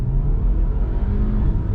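Audi Q5 with a 7-speed S-tronic gearbox launching from about 3,500 rpm under launch control, a loud, steady close engine roar and rumble through a brief burst of hard acceleration.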